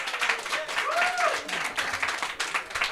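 Quebec comedy game-show audience voting by applause, a moderate burst of clapping with crowd murmur, fairly steady and mid-distance, with voices and a whistle-like tone rising over it.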